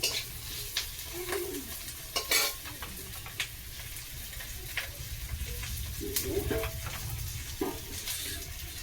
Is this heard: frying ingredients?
yes